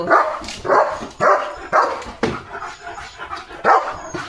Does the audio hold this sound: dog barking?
yes